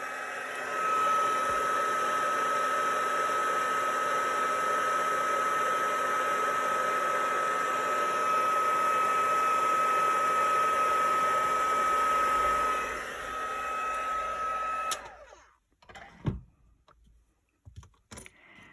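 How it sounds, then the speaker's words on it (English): A steady, loud whooshing roar of hot air blowing from a heat embossing gun runs for about fifteen seconds, then cuts off, leaving a few small clicks and taps. "Okay, now I'm going to heat emboss that"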